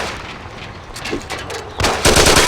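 Gunfire in the Mafia video game: a loud, rapid burst of shots that grows denser and heavier toward the end, with no talk over it.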